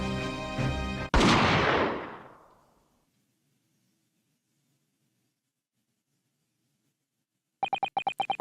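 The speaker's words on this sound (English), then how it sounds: "Jigoku shot Asogi from the shadows" A gunshot from The Great Ace Attorney Chronicles video game, one loud sharp blast that decays over about two seconds after a brief tone, then silence, followed by a rapid chiming ringtone-like game cue near the end.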